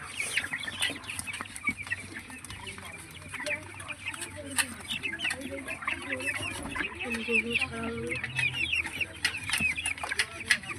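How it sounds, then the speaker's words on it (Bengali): Several chickens cluck and murmur nearby while eating from a plate, a continuous, busy chatter with soft scuffling sounds underneath. "মুরগি।"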